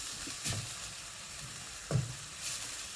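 Softened onions fry quietly in a pan for a chicken and black bean stir fry, with a low, steady sizzle broken by two or three brief scraping stirs.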